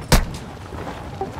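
A single sharp, loud gunshot bursts out early in a video game firefight, followed by a low rumbling tail and faint background sounds.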